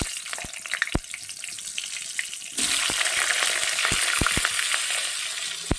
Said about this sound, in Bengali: আর ওই মাছ ভাজার তেলে আমি আলুটাকে ভেজে নেব।